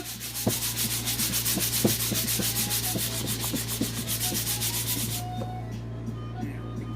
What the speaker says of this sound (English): Take our sander, sanding block.